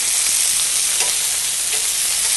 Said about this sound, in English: Lots of good flavor in the shrimp when you sear them like this.